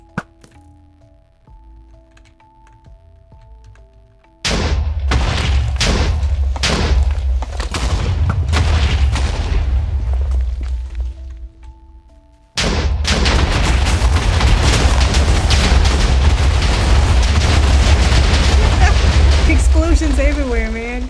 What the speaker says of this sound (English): Explosions everywhere, man.